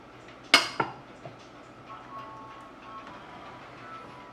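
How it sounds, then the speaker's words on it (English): A spoon stirs sugar in a bowl for a spicy braised pork dish, giving two bright, close metallic clinks and a fainter tap. Quiet scraping and soft clatter follow. "Mix it until the sugar is dissolved."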